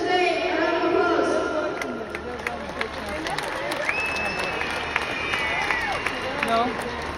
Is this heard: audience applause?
yes